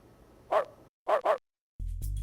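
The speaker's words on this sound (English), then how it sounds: "Stray dogs that wander around pangolin habitats will harm these endangered animals." Stray dogs barking in the open: a single sharp bark, a quick pair of barks, then a brief steady mechanical hum at the end.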